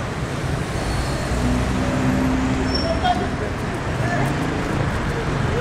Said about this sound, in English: The cold mornings, the noise and the hassle of the speeding traffic are the hazards that Njeri has endured for the last 27 years